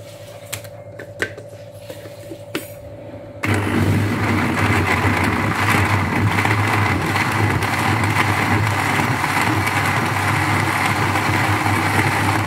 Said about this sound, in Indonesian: kita akan blender sebentar.